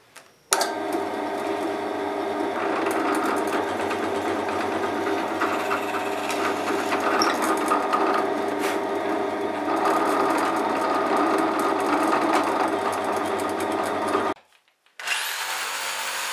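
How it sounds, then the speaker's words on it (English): A drill press chain drilling out waste from a wooden guitar body for a Rickenbacker 620/12 build, a steady close whine with repeated bites into the wood, then a brief stop and restart near the end. "I'll probably just chain drill most of this waste out"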